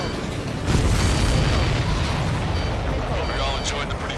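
A missile blast booms through the busy soundscape of the Ace Combat 7 flight-combat video game, a dense, rumbling explosion over a wash of engine noise, with a hint of voices in the mix.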